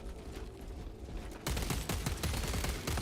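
Automatic bolt carbine fire in Space Marine 2, quiet at first, then a sudden louder stream of rapid shots that keeps going to the end, heard without speech.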